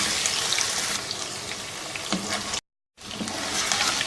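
Chicken pieces for Shinwari karahi fry in hot oil, a steady broadband sizzle and hiss running throughout with a brief gap of silence near the end, no talking.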